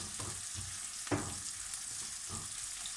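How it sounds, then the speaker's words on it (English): Small baby onions fry in a pan with a steady soft sizzle throughout, broken by a few quiet stirring scrapes and one sharper knock of the utensil against the pan. "And we're just gonna give that a bit of a stir"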